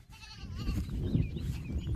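Goats in a village soybean field give scattered bleats over a dense, rustling low background, fairly close and with no talk.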